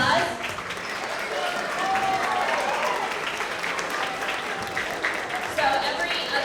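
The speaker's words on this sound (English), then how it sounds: "let's give a round of applause" A crowd applauds continuously as students are called up to a stage at a school event, with dense clapping holding steady and voices mixed in.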